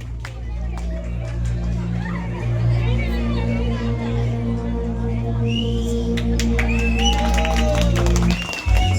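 An audience claps for someone stepping onto a stage at a live event, the applause continuous and mid-distance, mixed with crowd murmur and a speaker's amplified voice over it.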